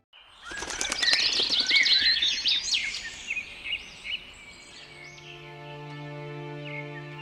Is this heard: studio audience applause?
no